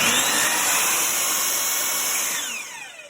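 A MasterCraft 10-inch 15A compound mitre saw whirs at speed with a steady high motor whine, close and loud, then spins down toward the end with no voices.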